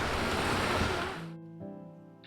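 Steady broadband rush of falling water along a jeep trail on Feedstone Mountain, loud and continuous, then cutting away to a quieter hum after about a second and a half.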